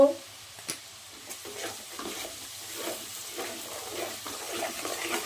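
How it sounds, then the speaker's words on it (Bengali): Onions fry in a pan with a close, crackling sizzle, and a spoon stirs and scrapes through them in soft, repeated strokes. "পেঁয়াজটা লাল লাল করে ভেজে নিতে হবে"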